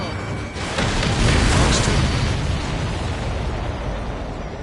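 Explosions in the video game Ace Combat 7 Skies Unknown: a loud, sustained rumbling blast with crackling bursts over roughly four seconds, close and dominant.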